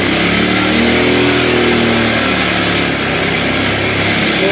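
A motorcycle engine runs loud and close during a test ride after repair, holding a steady buzzing drone with a slight rise and fall in revs and no pauses.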